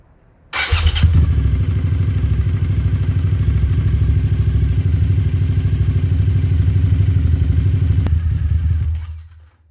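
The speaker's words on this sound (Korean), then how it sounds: "역시 2기통의 엔진 소리는 참 듣기 좋습니다." A Suzuki TL1000S V-twin motorcycle engine fires up after a brief pause and settles into a loud, throbbing, lumpy idle close by, then cuts off near the end.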